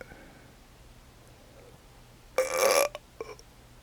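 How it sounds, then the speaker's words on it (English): A single loud, close burp lasting about half a second rises out of a quiet room, followed by a couple of faint trailing sounds. "Oh, I thought I had a burp coming."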